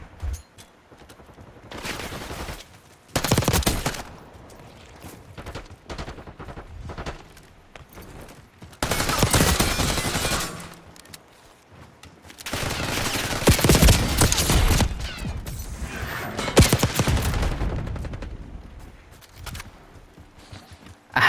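Gunfire in the video game Call of Duty Black Ops 6, with loud bursts of shots in several clusters separated by quieter game ambience, no talking.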